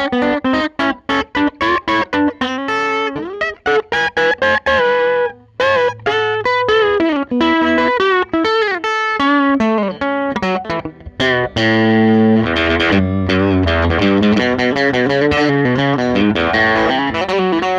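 An electric guitar from Teye with its mood knob rolled down, played alone in a busy run of picked notes and chords with a bright, sharp twang and some distortion, steady and loud for the whole stretch.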